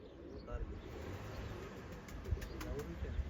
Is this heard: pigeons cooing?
yes